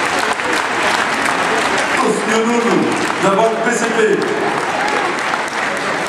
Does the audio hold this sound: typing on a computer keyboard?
no